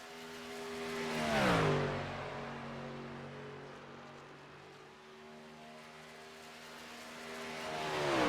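A NASCAR-style race truck engine at superspeedway qualifying in the iRacing sim drones at steady high revs, swelling as it passes close with a Doppler drop in pitch, then fading before rising again as another pass approaches.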